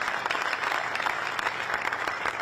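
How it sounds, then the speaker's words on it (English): An audience at a Final Four logo reveal event hosted by Michigan State gives a steady, dense round of applause, close and continuous throughout with no talking over it. "I'll give you a round of applause."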